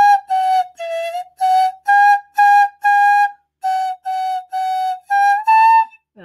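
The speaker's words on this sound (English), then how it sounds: "use their pinky to do the slide whistle" A flute head joint played like a slide whistle, a finger pushed inside to bend the pitch, gives about a dozen short, close, loud whistled notes in a halting tune, with one final upward slide.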